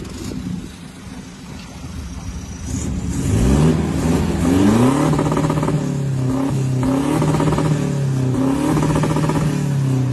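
A Toyota Revo pickup with a closed cargo box and an Ultra Boost tuning box idles, then revs up in rising, falling bursts, loud and close, with rattly mid-pitched engine tone.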